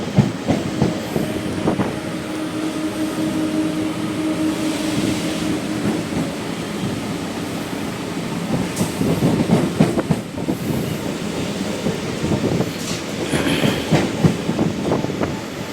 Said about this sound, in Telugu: గూడ్స్ ట్రైన్ ఒక్కటి ఇప్పుడే సికింద్రాబాద్ లోపలికైతే ఎంటర్ అవుతుందండి